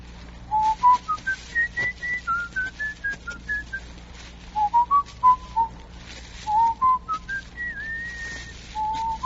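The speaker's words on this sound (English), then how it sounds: "What's that you're whistling?" A person whistles a slow, wavering melody, clear and close, with short pauses between phrases and a faint low hum underneath.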